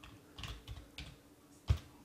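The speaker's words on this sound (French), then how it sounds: "Je valide avec la touche Entrée du clavier." A handful of separate, crisp keystrokes on a computer keyboard, including the Enter key, come at an uneven pace, with one sharper, louder press near the end and no talking.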